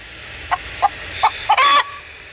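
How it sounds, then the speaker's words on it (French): A hen clucks in a few short, separate calls, then gives one longer, louder squawk, close and clear over quiet background. "Pour communiquer, c'est-à-dire pour parler, la poule caquette."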